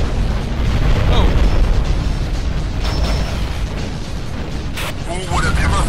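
Explosion rumble in the underwater video game Aqua Nox, a sustained low boom under steady game noise with brief bursts late in the clip, loud and close.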